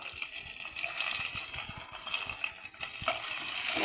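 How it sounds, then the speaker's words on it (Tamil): Onions sauté in hot oil after mustard seeds have spluttered, a close, continuous sizzle with scattered crackles and spoon scrapes as they are stirred, with no voices. "கடுகு பொரிஞ்சதுக்கப்புறமா வெங்காயம் சேர்த்துக்கலாம். வெங்காயம் நல்லா வதங்கணும்."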